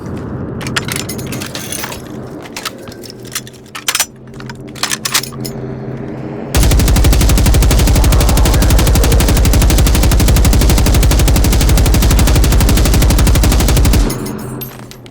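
A hostile machine in Generation Zero fires a sustained machine-gun stream, loud and continuous for about seven seconds after scattered single cracks and clatter, then cuts off abruptly.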